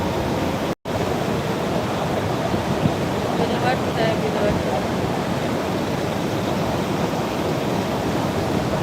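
Floodwater on the Shivnath river at Mohara in Rajnandgaon, Chhattisgarh, rushes in a steady, dense roar that fills the scene without pause, broken only by a momentary dropout near the start.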